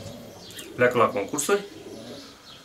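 Racing pigeons kept in a loft coo in soft, low throaty bursts close by, while someone speaks Romanian over them.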